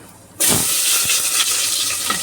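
Cumin seeds dropped into hot oil in a pan while cooking a mutton curry, a sudden loud sizzle that bursts in and keeps hissing steadily and close.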